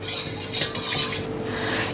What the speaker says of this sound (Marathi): याला एकसारखं हलवत राहायचं आहे ढवळत राहायचं आहे म्हणजे यामध्ये अजिबात गुठळ्या होणार नाहीत